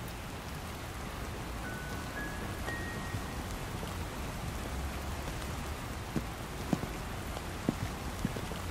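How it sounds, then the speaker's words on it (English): Heavy rain falls in the Love and Deepspace video game, a steady, soft downpour hissing continuously with a few scattered louder drops near the end. "The rain is getting heavier. Let's go inside."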